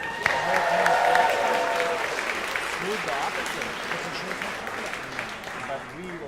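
A crowd claps at a school's 50th anniversary celebration in Ann Arbor, applause strongest at the start and slowly thinning while voices carry faintly underneath.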